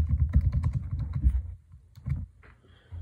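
Quick bursts of keystrokes on a computer keyboard while code is written, close and fairly soft. A rapid run of taps gives way to a pause, then a few scattered presses follow.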